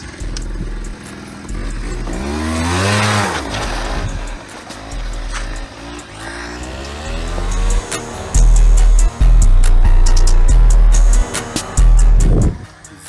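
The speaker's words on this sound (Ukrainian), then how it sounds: "Це що? Мопед." A moped engine runs close by, its pitch sweeping up and down as it revs, then settling into loud, steady bursts of idling and throttle, with a few brief voices over it.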